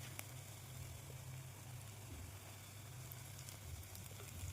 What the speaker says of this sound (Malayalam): നന്നായി ഒന്ന് വഴറ്റിയെടുക്കുകയാണ്.